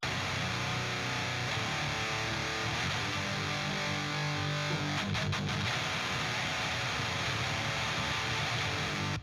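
A dense, heavily overdriven electric guitar roars continuously through an amp simulator preset copying a Peavey 5150, thick and saturated with a steady wall of distortion and no voices.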